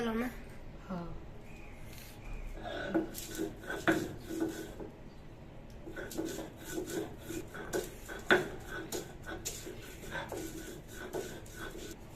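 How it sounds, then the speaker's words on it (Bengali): Fried pointed gourd (potol) is ground by hand on a flat grinding stone, giving repeated rasping, scraping strokes in an uneven rhythm while someone talks over them. "এখন আমি এটা পাটায় বাটবো"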